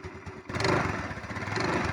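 A motorcycle fires up on the first kick and its village engine settles into a rough, uneven mid-pitched running note, loud and close, after a brief quieter moment of the start.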